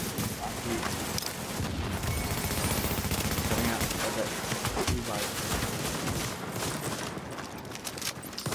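Shotgun fire in a video game, heard as repeated loud blasts amid dense, busy game noise that continues throughout.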